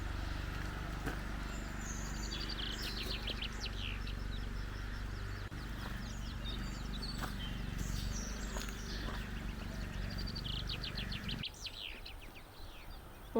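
Birds sing near a river in the Basque village of Sare, with scattered high chirps and trills over the steady drone of a nearby lawn mower, which cuts out near the end.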